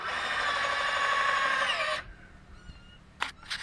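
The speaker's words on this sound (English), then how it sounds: "She got her 2 drills, so she's going to be changing bits all the time" A power drill runs steadily on a wooden raised garden bed, loud and close, then cuts off abruptly about halfway through, followed by faint handling knocks and a brief clatter.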